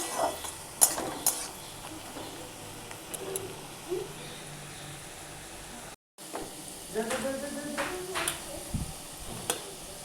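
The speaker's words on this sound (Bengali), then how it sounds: "পেঁয়াজটাকে লাল লাল করে ভেজে নেব।" Onions frying in oil for chicken curry, a soft, steady sizzle with scattered pan clinks and stirring scrapes, fairly quiet and broken by a brief gap.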